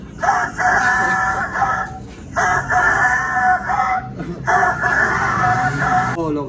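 Three long rooster crows repeat in a steady cycle, each a loud, drawn-out call close by, with brief clucks and farmyard noise in the short gaps between them.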